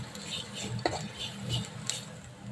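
A spoon stirs onions that are frying in a pan, with turmeric and salt just added. Soft scraping and a few light clinks sound close by over a faint sizzle.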